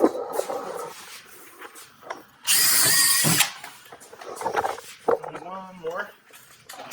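A power drill bores into a table, one loud whining burst of about a second close by, with people talking before and after it.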